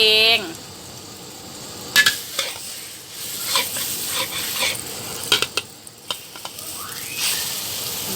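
A cha-om omelette stir-frying in a pan, giving a steady soft sizzle with scattered clinks and scrapes of a utensil against the pan, close and fairly loud, with no talking.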